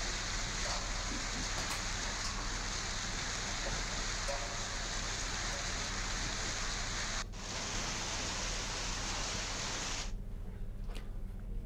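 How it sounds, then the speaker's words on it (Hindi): Heavy rain mixed with hail pours down in a dense, steady hiss, with a brief dip around the middle and a thinner, quieter patter near the end. "क्योंकि बारिश हुई और साथ में ओले भी गिरे हैं"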